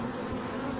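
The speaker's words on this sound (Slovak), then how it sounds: "Včely sú celkom nekľudné." Restless honeybees in a hive produce a steady, close, dense buzzing drone with a strong low hum, continuous and without speech.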